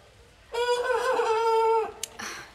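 A farm rooster lets out one loud, close, drawn-out crow lasting over a second, followed by a brief click and a softer trailing sound.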